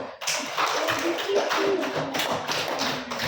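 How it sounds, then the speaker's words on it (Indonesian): A classroom of students applauds a classmate, a loose burst of close, uneven hand claps lasting a few seconds, with a faint voice or two mixed in. "tepuk tangan untuk Mas Yalin dulu"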